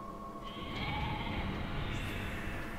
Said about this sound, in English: The sheep is drunk as fuck.